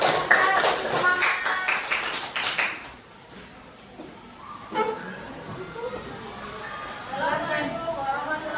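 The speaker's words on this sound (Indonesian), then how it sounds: "Silakan maju, beri tepuk tangan dulu." Classroom students clap for a presenting group, Kelompok 4, as it comes forward: a lively burst of many hands for about three seconds, then the clapping fades and voices talk over room noise.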